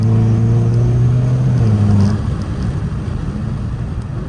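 A Hyundai Kona N engine drones steadily under load, then the throttle lifts and the pitch drops into a rumbling, crackly exhaust burble, loud and close from inside the car.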